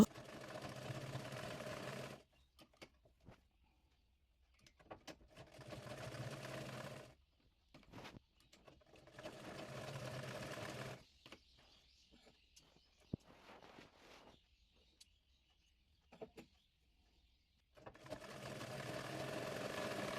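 A sewing machine stitches a baby girl's half pant, running in several separate bursts of steady whirring, each a couple of seconds long, with quiet pauses and small handling clicks between them.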